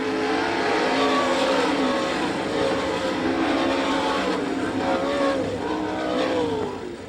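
Sprint car engine at an All Star Circuit of Champions Winternationals dirt track in Gibsonton, Florida, roaring loud and sustained as the car finishes the B main, pitch rising and falling through the turns before easing off at the end.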